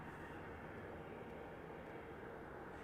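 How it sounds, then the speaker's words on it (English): Steady broadband roar of a Spirit Airlines jet touching down on the runway at Las Vegas Harry Reid International Airport, a constant loud rumble heard from a distance with no voices over it. "now we have Spirit Aerolíneas, the highlighter of the skies, hitting the runway, the one-way."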